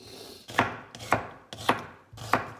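A knife chops cabbage on a cutting board for a Finnish cabbage casserole, four firm, evenly spaced thuds close up, each with a short decaying tail, and no talking.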